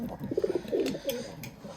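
Soft, low pigeon coos repeat in short murmuring phrases, fairly close, in a pigeon loft, with a faint chirp or two and no talking.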